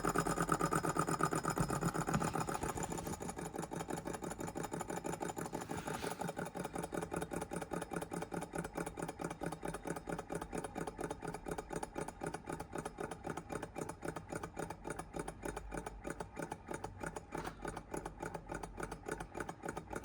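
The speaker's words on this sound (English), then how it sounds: "this is a lovely little engine" An OKMO J06D mini four-column beam hot air Stirling engine runs with a fast, even mechanical ticking, close and steady, starting slightly louder and then settling into a constant rapid clatter.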